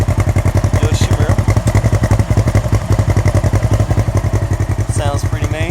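A 2016 Polaris RZR XP 1000 UTV fitted with a Yoshimura exhaust runs nearby with a loud, steady, rapidly pulsing engine note, its firing beat continuous from start to finish.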